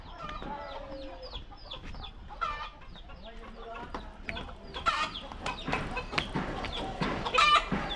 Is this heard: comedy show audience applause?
no